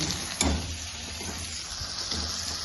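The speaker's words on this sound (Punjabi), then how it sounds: "ਤੜਕਾ ਤੇ ਚੰਗੀ ਤਰ੍ਹਾਂ ਭੁੰਨਿਆ ਗਿਆ ਹੈ" Hot oil sizzles steadily with a soft crackle as tempering spices fry, close up, with a brief clink near the start and no talking.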